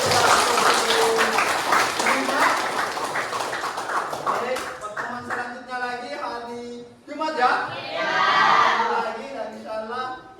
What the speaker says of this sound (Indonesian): beri dulu aplaus untuk